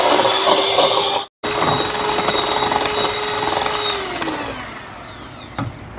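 An electric mixer whirs continuously while beating a cheesecake mixture with sugar, cutting out for a moment, then resuming its steady motor whine before slowing slightly, with faint scraping against the bowl.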